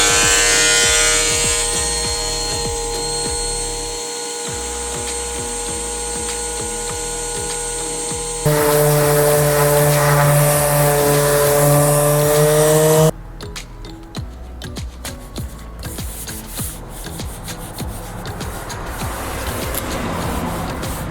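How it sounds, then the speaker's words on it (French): Wood chip dust extraction system running in a woodworking shop, a loud continuous roaring whoosh with a tonal hum that shifts pitch partway through, then settles into rougher rattling airflow, close and with no talk. "Ça c'est l'aspiration pour les copeaux."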